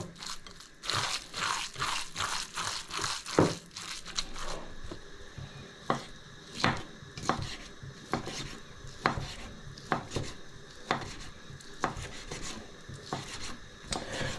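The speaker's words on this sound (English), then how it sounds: "And then I'm going to mix this together." Stuffed cabbage filling with marjoram and caraway seeds being stirred together in a bowl: repeated scraping, clinking and squelching strokes at a steady rhythm, close and fairly quiet, with no talking.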